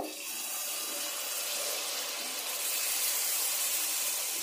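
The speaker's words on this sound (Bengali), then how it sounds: "এবার ব্যাটার থেকে অল্প অল্প করে তুলে তেলের মধ্যে দিয়ে দেব।" Palm malpua batter frying in hot oil in a wok, giving a steady, dense, hissing sizzle that holds at an even level throughout, with no voices.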